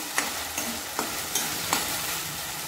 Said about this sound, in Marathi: त्याच्यावर ही पेस्ट टाकते मी वाटलेली